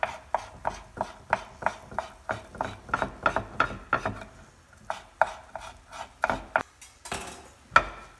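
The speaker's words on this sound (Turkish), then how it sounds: "bunları şöyle küçük küçük küp küp doğrayacağım." A knife dices halloumi cheese into small cubes on a cutting board, sharp regular taps in a steady rhythm, close and fairly quiet, with brief pauses.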